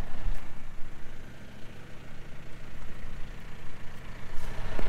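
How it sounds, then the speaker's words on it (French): A farm tractor idles in a field after seeding in dry soil, its engine a steady low rumble with a continuous mid-range drone, held fairly constant throughout with no talking. "on va éteindre le tracteur là"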